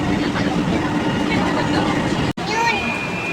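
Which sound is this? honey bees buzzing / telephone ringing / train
train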